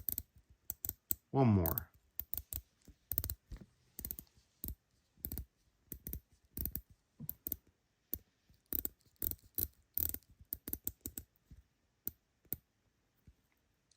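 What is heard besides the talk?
Citizen Promaster Aqualand watch bezel being turned, clicking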